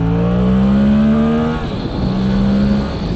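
Suzuki GSX-8TT motorcycle revved hard in second gear, the engine note climbing sharply and loudly for about a second and a half, dropping briefly at the shift, then rising again over wind roar.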